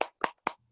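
A few people clap three times in a sparse, uneven burst during a Korean chamber of commerce Zoom seminar, the claps short and moderately close, with brief silence between them.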